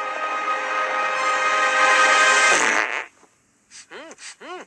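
A long, loud cartoon fart effect from the Shrek movie rasps for about three seconds and cuts off abruptly, followed by a few short, bouncy comic squeaks.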